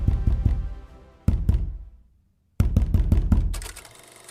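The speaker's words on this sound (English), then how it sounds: "xQc's front door banged open." A front door banging open: rapid heavy knocks and thuds in three close bursts, loud and near, with a short silence between the second and third.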